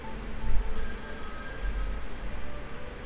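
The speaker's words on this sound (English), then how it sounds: "This was a classroom, so why would I be hearing a ringing sound in here?" An ancient-looking black telephone rings in a classroom in a visual novel game, a bright repeating electric bell ringing steadily and fairly loud with no voices.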